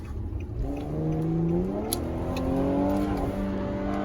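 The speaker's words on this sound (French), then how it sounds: "Tu vois comment c'est rageur, franchement, quand ça rétrograde, tu le sens passer." An Infiniti G37 S engine drops through gears with a throaty rev blip and falling pitch as the car brakes, heard loud and close from inside the cabin without talk.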